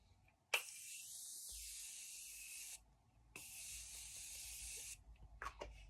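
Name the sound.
Morphe Continuous setting spray sprayed on face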